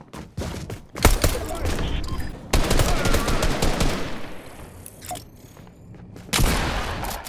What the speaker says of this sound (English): Oh no, he's lobbing in grenades!